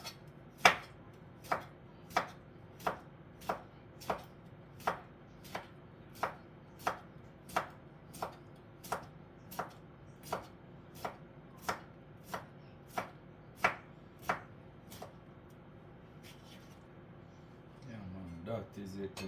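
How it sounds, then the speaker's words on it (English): A knife slicing cucumber on a board, about twenty crisp, evenly spaced chops close to the mic, then a softer rustle of handling at the end. "And now I'm gonna slice my cucumber."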